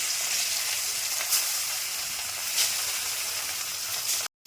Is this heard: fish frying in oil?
yes